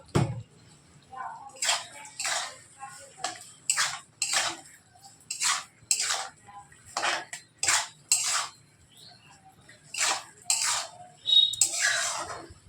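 Metal clatter from a pot lid and utensils on a pot of mango chutney, a series of sharp, bright clinks and scrapes in irregular clusters, close and fairly loud, with no talking.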